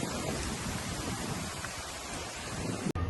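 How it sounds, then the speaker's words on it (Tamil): Strong storm wind in Uttar Pradesh, India, roars continuously as dense, broadband buffeting close to the microphone, steady and loud with a brief dropout near the end. "நான் பேசுறது கேக்குதா என்னன்னு தெரியல, ஆனா சரியான காத்து"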